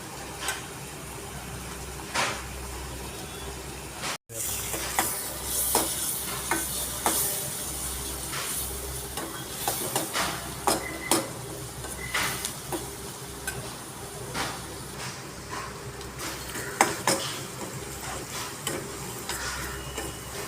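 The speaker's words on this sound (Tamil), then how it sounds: "வெங்காயம் லைட்டாக நேரம் மாறிடுச்சு, நல்லா வதங்கிடுச்சு" Onions sautéing in a pan for Tamil-style egg podimas, a steady low sizzle with repeated stirring scrapes and clicks of a utensil throughout, close and moderately loud, with no talking.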